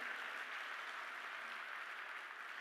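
Steady, even applause from an indoor audience at a talk or event, sustained and fairly distant with no voices over it.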